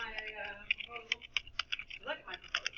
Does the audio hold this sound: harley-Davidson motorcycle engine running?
no